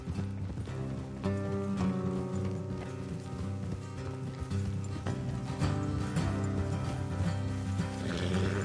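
Rhythmic hoofbeats of horses galloping in the video game Red Dead Redemption 2, close and continuous, with occasional clanking and a faint whinny over a steady background.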